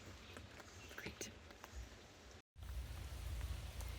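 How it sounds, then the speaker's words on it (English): Steady rain patters over a campsite, a soft, continuous hiss with scattered drops, close and fairly quiet, broken by a brief moment of silence midway. "Oops, my campsite in the rain."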